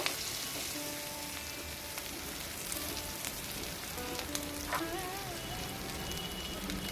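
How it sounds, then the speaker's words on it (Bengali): Chopped onion frying in oil with a little cumin, a steady sizzle filling the clip with faint scrapes and background tones, no voices. "দিয়ে দিলাম পেঁয়াজ কুচি পেঁয়াজটা হালকা করে এবার ভেজে নেব"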